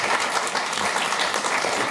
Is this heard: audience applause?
yes